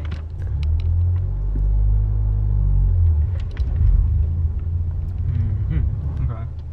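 A Honda Civic Type R rumbles deeply at close range during a drive, a loud low engine drone that swells and settles while people talk inside the car.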